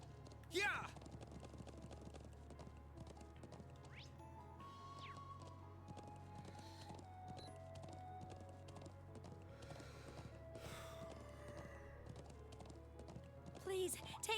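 Horses galloping in the video game Trails of Cold Steel II, a steady clip-clop of hooves running under game music, with a brief whinny near the start and voices talking over it.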